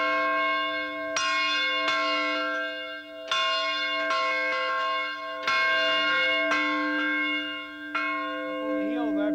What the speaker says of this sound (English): I come out and I ring my bell. This big bell looks like the Liberty Bell.